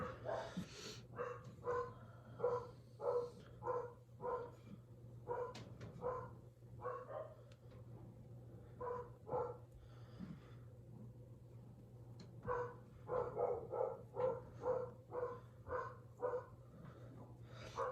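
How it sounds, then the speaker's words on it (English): Several dogs bark in bursts in the background of a pottery studio where a kurinuki mug is being carved, the barks coming in rhythmic clusters with a steady low hum underneath. "I have to pardon the dogs in the background."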